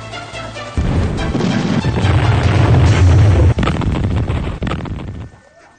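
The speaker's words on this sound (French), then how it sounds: "C'était l'explosion." A loud, close explosion booms in suddenly and rolls on as a heavy, crackling rumble for several seconds before cutting off and fading quickly.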